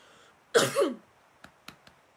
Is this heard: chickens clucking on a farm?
no